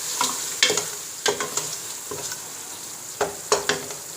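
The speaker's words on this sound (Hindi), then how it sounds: "अब इसको थोड़ा सा भूनने के बाद इसके अंदर जाएगा 1/2 टीस्पून ज़ीरा। इसको भी भूनेंगे हम।" Cumin seeds roasting in oil in a pan while being stirred, with soft sizzling and a series of sharp scraping strokes of the spoon at irregular intervals, close and fairly quiet.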